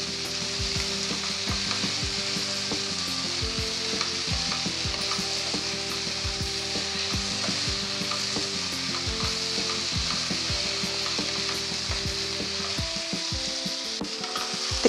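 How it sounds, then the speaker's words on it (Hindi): Vegetables for mix veg dalia fry in a hot pan with a steady, loud sizzle, while a spoon stirs them and scrapes the pan in repeated strokes, close up and with no talk throughout. "और इनको भी अच्छे से भून लेंगे"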